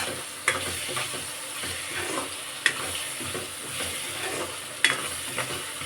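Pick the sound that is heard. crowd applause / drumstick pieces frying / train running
drumstick pieces frying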